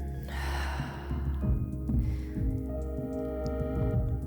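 Slow audible breathing during a gentle Pilates roll-down, a long airy inhale and exhale heard close over a soft continuous background tone, with no speech.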